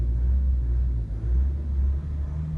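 A Hyundai Veracruz engine rumbles steadily with the accelerator pressed, a low, continuous drone heard from inside the car with no talk over it.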